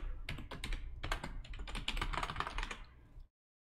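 Keys on a computer keyboard are tapped to enter a password, a quick run of close, crisp clicks in uneven bursts lasting about three seconds before stopping abruptly into silence.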